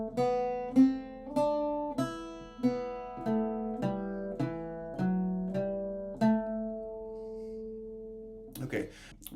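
An Irish bouzouki is plucked, picking out a slow melody note by note, each tone ringing and decaying, ending with a brief rustle.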